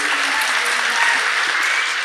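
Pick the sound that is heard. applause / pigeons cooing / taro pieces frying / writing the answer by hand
applause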